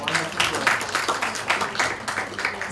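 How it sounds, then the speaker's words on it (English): The audience at a metabolomics closing ceremony gives a round of applause, with dense overlapping hand claps that stay loud and steady, and faint voices beneath. "I want us to give them a round of applause."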